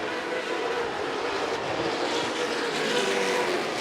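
Late model race cars at Rockford Speedway drone in a continuous, loud engine roar, with several cars blending into one steady wash of sound that swells slightly toward the end.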